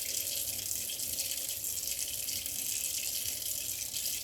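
Running tap water pours steadily over Instant Pot parts being rinsed in a sink, a continuous broadband splashing gush that stays even and fairly loud for the whole stretch with no talking.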